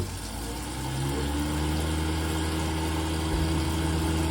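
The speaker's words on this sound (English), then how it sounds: "this one we've been turned up to is a Worcester Green Star 28i, making what the customer describes as a motorbike noise" A Worcester Green Star 28i boiler fan with a suspected worn bearing plate, droning loud and steady with a rough, motorbike-like hum that holds throughout.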